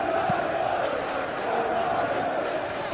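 Stadium crowd in the football video game PES 2021, a Premier League simulation of Hull City against Manchester United, giving a steady, sustained roar and murmur that stays level throughout with no distinct peaks.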